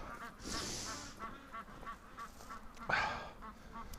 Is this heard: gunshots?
no